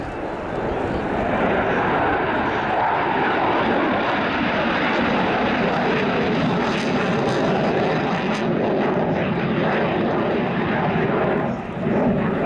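A Polish Air Force MiG-29 jet fighter roars past at an air show in a loud, continuous broad jet rumble that holds steady throughout, with faint crowd noise underneath.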